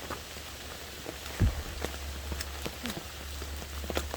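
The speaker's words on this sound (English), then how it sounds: "But this is an all-day rain." Steady all-day rain patters on a surface on the Appalachian Trail in Shenandoah, with scattered louder drops tapping nearby and a soft thump partway through.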